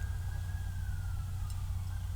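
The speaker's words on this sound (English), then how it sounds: "the microphone's gonna pick up the sirens here" An emergency vehicle siren in Villa Rica, Georgia wails faintly in the distance as a single slowly sliding tone over steady low traffic rumble.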